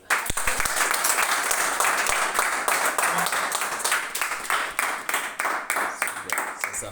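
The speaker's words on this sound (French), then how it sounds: "Est-ce qu'on peut acclamer les amis?" A crowd applauds and cheers at a French-language church gathering, with steady loud clapping throughout and a few voices shouting over it.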